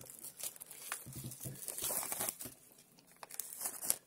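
Small scissors snip and crinkle the plastic wrap off a limited-edition Star Wars Steelbook package, with close, irregular crinkling, rustling and tearing bursts throughout and no talking.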